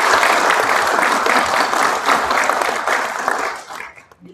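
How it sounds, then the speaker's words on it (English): A board meeting audience gives a round of applause for a visiting group, a steady wash of many hands clapping close by that tapers off and fades at the end. "let's give a hand of applause to Mike Hand and his group from CPRA."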